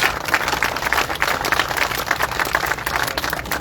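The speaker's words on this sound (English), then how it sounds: "please give them a round of applause." Crowd applause at the Harbor Point ribbon cutting, a lively, continuous burst of many hands clapping with busy, irregular individual claps throughout, sustained at full strength for the whole few seconds.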